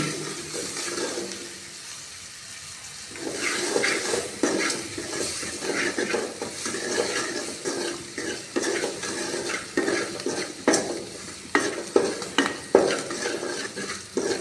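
Lentil dal masala mixture being stir-fried in a pan, with a continuous low sizzle and repeated scraping and knocking of a spatula against the pan that grows busier, close and moderately quiet.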